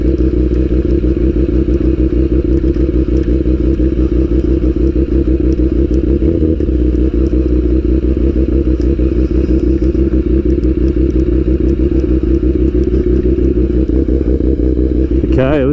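A BMW S1000RR motorcycle's engine on a test ride, a loud, steady, smooth drone that holds close and constant throughout with no clear revving.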